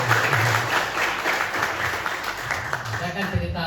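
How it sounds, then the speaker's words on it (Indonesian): Audience applause at a gathering in Karawang, a steady close round of clapping that thins slightly toward the end, with a voice speaking over it at moments. "Jadi alhamdulillah, tepuk tangan buat mereka berdua."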